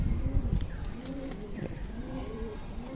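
Kaldum pigeons cooing inside a loft, several low, rolling coos overlapping one another fairly close by, steady and continuous throughout.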